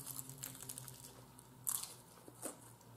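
Crunchy Panda Express food is bitten and chewed close up, with a few quiet, sharp crunches standing out against a faint background.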